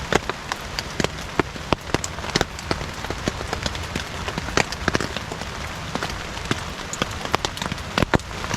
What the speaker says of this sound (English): listen to this rain come down